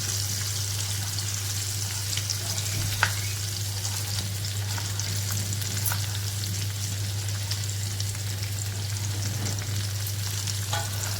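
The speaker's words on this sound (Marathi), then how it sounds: "टॅमॅटो सर्व टाकून त्याला खरपूस असं भाजून घ्यायचं" Onion and tomato frying in a pan for a stuffed okra masala dish, a continuous close crackling sizzle with a steady low hum underneath and occasional faint stirring ticks, no speech.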